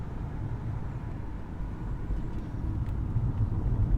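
A car on a country road beside a livestock farm gives off a steady low rumble that swells slightly toward the end, with no talking over it.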